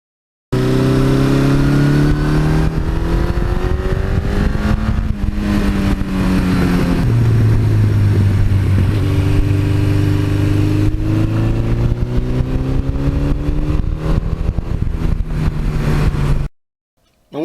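A 1982 Suzuki GS1100E motorcycle engine runs loud and close, revving up and down through several throttle blips with a deep, rough exhaust note before cutting off abruptly.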